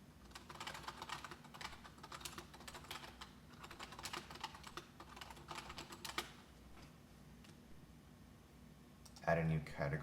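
Steady keyboard typing on a computer while an article is written in a WordPress editor, close and continuous clicking in bursts that fades after about six seconds, followed by a brief louder knock near the end.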